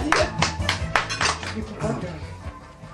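Applause during a party game at an adult birthday celebration, a handful of sharp, nearby claps that trail off, with voices talking over them.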